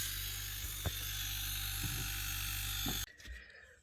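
A refrigerator compressor motor runs with a steady, droning electrical hum and a few faint clicks, then cuts off abruptly near the end, leaving a quieter rustle.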